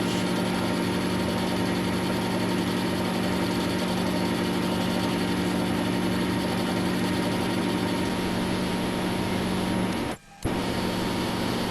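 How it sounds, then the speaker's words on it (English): Lathe boring a hole in a workpiece, a steady whirring machine hum with a constant tone that runs evenly, cuts out briefly near the end and then resumes. "Boring the hole will make it a concentric and straight."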